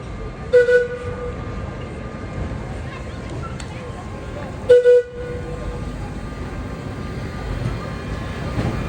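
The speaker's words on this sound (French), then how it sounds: "il y a évidemment le célèbre tramway tout en bois qui date des années 1900" Historic wooden tramway dating from the 1900s in Sóller, Mallorca, rumbling steadily with two short horn toots, under a voice speaking throughout.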